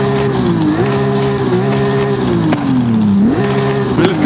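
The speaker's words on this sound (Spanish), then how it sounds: "Atención al motor de este bocho" A Volkswagen Beetle (vocho) tuned engine in Forza Horizon 5 revs loudly and steadily, its pitch rising and falling through repeated throttle blips and gear shifts with no talk over it.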